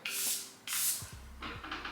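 Charlotte Tilbury Airbrush Flawless setting spray hisses out in two quick close bursts, followed by softer rustling and handling noises.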